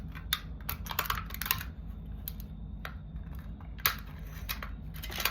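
Scissors snip along a printed line on a can label to make a muzzle, a series of close, sharp crisp cuts in uneven bursts with short pauses between them.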